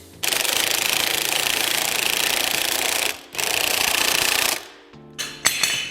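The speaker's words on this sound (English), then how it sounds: "I'm gonna now take the impact and" An impact wrench spins a nut onto a suspension spindle's ball joint during a lowering kit install, giving two loud, continuous rattling bursts, close up, followed by a few short trailing blips.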